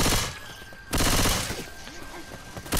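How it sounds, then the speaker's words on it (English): Loud bursts of automatic gunfire from the zombie shooter Left 4 Dead 2 come in close, heavy waves with short quieter gaps between them. "I'm getting shot by the boss quite a lot."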